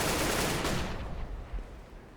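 Loud burst of gunfire in a competitive video game match, dense and continuous for under a second before fading into a rumbling tail with scattered softer shots, no voices.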